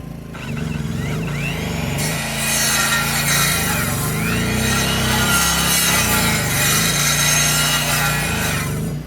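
A power saw run off a bogging generator cuts 2x4 lumber into foot-long pieces, a loud, continuous close-up buzzing whine with wavering pitch as the blade loads and eases through the wood.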